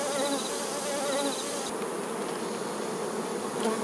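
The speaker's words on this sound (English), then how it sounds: "Honeybees raise their offspring by collecting honey and pollen from flower to flower." Honeybees buzz loudly and steadily around flowers, a dense close-up swarm hum with wavering pitch and no voices.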